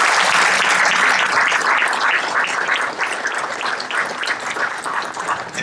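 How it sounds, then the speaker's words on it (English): An audience at a Kentucky governor's grant announcement applauds steadily, a dense, close wash of clapping that holds strong for several seconds and then begins to thin slightly. "Let's give them a round of applause."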